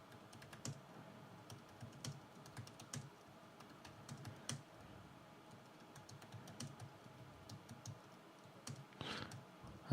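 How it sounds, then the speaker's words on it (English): Someone types on a computer keyboard with a quiet, irregular patter of key clicks and occasional sharper taps, close but soft against low room noise. "I'm actually getting typing feedback today."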